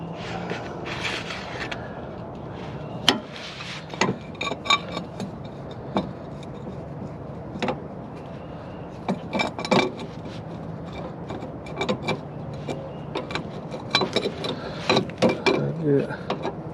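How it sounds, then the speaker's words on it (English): An adjustable wrench works loose and unscrews the inner tie rod on a wrecked Dodge Challenger, giving scattered metallic clicks, clanks and ratcheting taps spread irregularly over a quiet garage background. "take you an adjustable wrench, put it on right here, and pop this loose and unscrew it"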